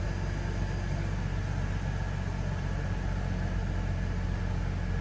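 A Chevrolet Trailblazer engine idles steadily and evenly just after a throttle body cleaning, giving a constant close hum with no revving and no voices.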